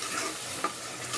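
Small fish and tomatoes stirred in a hot pan, with a steady soft sizzle and a brief clink of the spoon partway through, close and alone.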